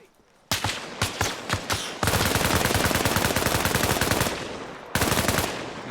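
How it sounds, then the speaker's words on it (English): Loud, close gunfire from the military shooter Arma: a few spaced single shots, then a long sustained burst of rapid automatic fire, a brief pause and another short burst. "Obviously, that's the gunshots. That's him shooting."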